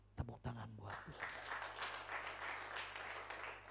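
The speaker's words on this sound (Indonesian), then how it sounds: "Tepuk tangan buat Tuhan." A church congregation breaks into sustained applause during a sermon, following a few sharp opening claps and some brief speech, a dense, even clapping that continues to the end.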